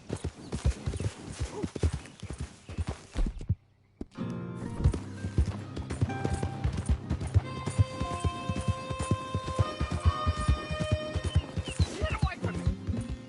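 A horse gallops in the Red Dead Redemption 2 video game, its hooves clip-clopping in a fast rhythm with snorts and a whinny. A rider urges it on, and there is a short pause partway through.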